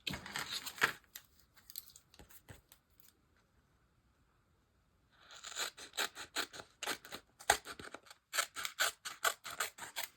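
Scissors snip through card stock in close, crisp runs of cuts with small rustles of paper, broken by a quiet pause midway before the snipping resumes in quick strokes.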